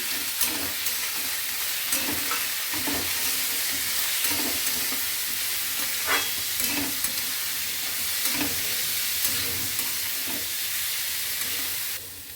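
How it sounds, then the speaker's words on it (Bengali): Mixed vegetables and moong dal fry in a pan with a dense, continuous sizzle and occasional scraping as the spatula stirs, steady and close throughout. "সবজিগুলো একটু দিয়ে মুগের ডালটা, এই যে মুগ ডালটা ভেজে নেবো"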